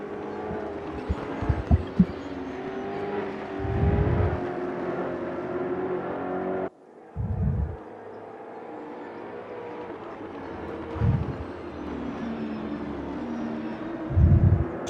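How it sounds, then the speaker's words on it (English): An Aquila CR1 race car in the RaceRoom racing game, racing at Mid-Ohio, screams loudly through the gears, with sharp drops at shifts and brief lifts in throttle. "Just letting you enjoy the sounds of the Aquila CR1 car."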